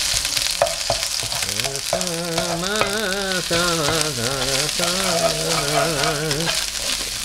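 Food sizzles and crackles in a hot pan, a dense steady frying hiss with a tonal warbling sound through the middle, as garlic and chicken are seared for Thai red curry stir-fry.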